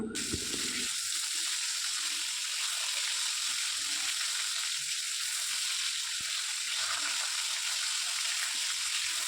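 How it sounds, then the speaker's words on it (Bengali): A second batch of Bombay duck (lote fish) chops fries in hot oil, giving a loud, continuous sizzling hiss after a brief clattering start, with occasional faint pops and no talking. "সেকেন্ড ব্যাচে বাকিগুলো কিন্তু আমি ভেজে নিচ্ছি"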